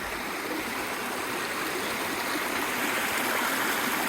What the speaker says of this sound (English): Good water source here